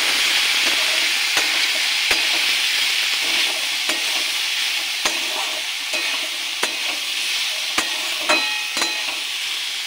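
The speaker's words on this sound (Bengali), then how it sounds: "দেবো পরিমাণ মতো লবণ, দেবো হলুদ গুঁড়ো, দেবো একটু জিরের গুঁড়ো। ভালো করে ভেজে নেব।" Beetroot and carrot curry frying in a pan with salt, turmeric and cumin, a steady broad sizzle under repeated sharp clicks of a spoon stirring against the pan, close and fairly loud, with no talking.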